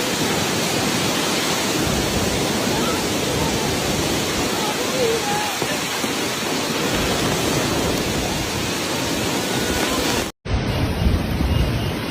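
Dense roaring typhoon wind and heavy rain in Guangdong, China blend into a constant loud rush, broken by a brief cut near the end before the storm noise resumes.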